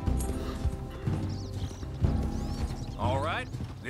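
Horse hooves clip-clop at a steady pace during a long ride in the video game Red Dead Redemption 2, under character dialogue with an occasional whinny.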